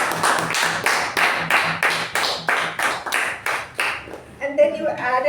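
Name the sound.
audience applause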